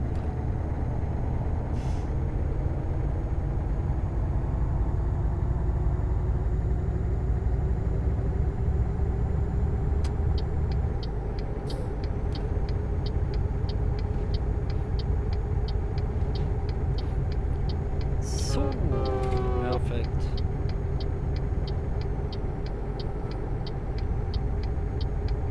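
A heavy truck drives steadily in Euro Truck Simulator 2 multiplayer, its engine droning low and constant for the whole stretch, with a brief hiss and clicking indicator ticks partway through.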